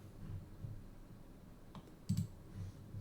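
Soft computer mouse clicks tap out at close range in a quiet room, a few isolated clicks with one sharper double click near the end.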